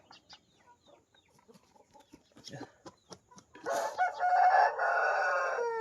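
A rooster crows loudly and close by after a few seconds of scattered clucks and soft clicking noises.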